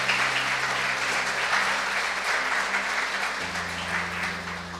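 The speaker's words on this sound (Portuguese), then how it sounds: "Vamos dar uma salva de palmas para as nossas presbititas nos dias das mães." Congregation applauds during a church worship service on Mother's Day, a sustained round of clapping that fills the room at steady loudness for several seconds, with a low background hum beneath.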